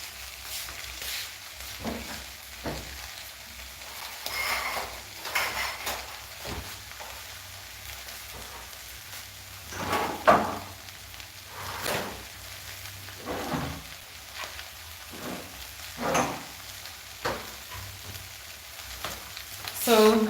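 Onions fry in a pan during home batch cooking, a steady soft sizzle broken by intermittent louder crackles and stirring clatter throughout.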